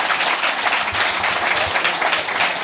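Warm audience applause at a lecture about Corsica, a roomful of hands clapping steadily and fairly loud throughout, with no talk over it.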